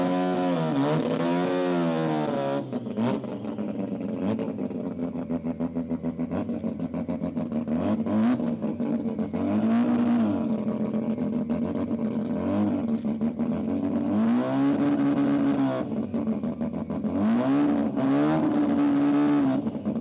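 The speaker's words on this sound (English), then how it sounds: "you're going to get a few very loud cars this weekend" Loud car engines revving and roaring continuously at a car event in Brisbane, rising and falling in pitch as vehicles accelerate nearby, with a constant crowd-like background.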